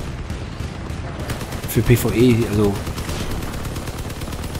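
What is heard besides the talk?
cannon gunfire in the video game Crossout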